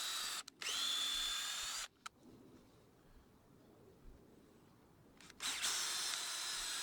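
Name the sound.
power drill drilling pilot hole in wood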